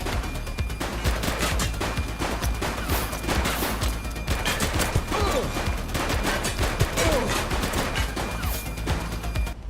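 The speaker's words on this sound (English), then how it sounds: "He's shooting!" Continuous gunfire in The Precinct video game, with dense overlapping bursts and rapid shots forming a loud, unbroken fusillade that runs through the whole stretch.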